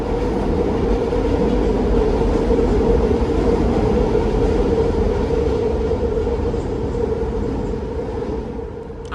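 An elevated train rumbles loudly overhead in the Olde Kensington neighborhood, a steady heavy roar with rail clatter that holds for several seconds before slowly easing off.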